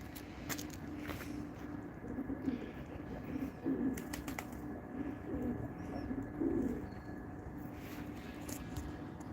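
About twenty pigeons coo in low, repeated calls over a steady background hum, with a few faint chirps mixed in.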